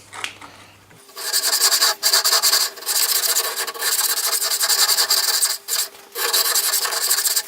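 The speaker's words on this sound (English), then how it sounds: "Let's try this Swiss number 4 cut file." A Swiss number 4 cut file is drawn across a blade's bevel in sharpening strokes, giving a loud, close, steady rasping scrape with a few brief pauses between passes after a quiet start.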